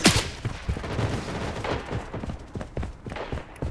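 Rapid gunfire in the shooter video game Blood Strike, with a loud opening shot followed by dense, irregular bursts of automatic fire, close and punchy throughout.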